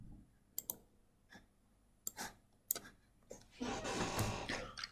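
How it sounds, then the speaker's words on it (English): Keyboard typing during a live-streamed operating systems lecture produces sparse, sharp clicks and taps in irregular bursts, then a denser cluster of keystrokes, all faint and close with no speech over them. "Somebody's typing."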